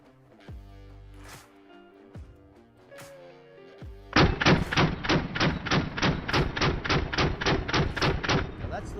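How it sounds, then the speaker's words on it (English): A Daniel Defense Mark 18 rifle fires full auto one-handed with the regular buffer: after a few thuds, a loud rapid burst of about fifteen evenly spaced close shots runs for roughly five seconds. "We're going to go full auto, one-handed."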